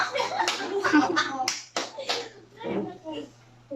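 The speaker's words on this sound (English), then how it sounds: "Clap your hands." Children in a classroom lesson give a few scattered, sharp hand claps, mixed in with a teacher talking nearby.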